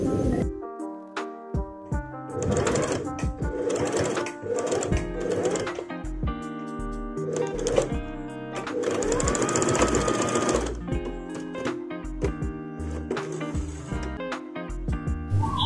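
A sewing machine topstitching a short-sleeved top, running in several close, steady whirring bursts with brief pauses between stitching runs.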